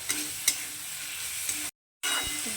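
Tomatoes being stirred in a frying pan while cooking a spicy fish-and-potato curry: steady scraping and sizzling with a few sharper spoon knocks, cut by a brief silent gap before the stirring resumes.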